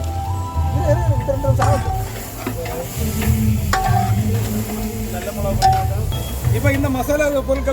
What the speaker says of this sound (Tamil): மூணு பொருட்களையும் போட்டு நல்லா ஒரு ரெண்டு நிமிஷம் போல நல்லா வதக்கி விட்றோம்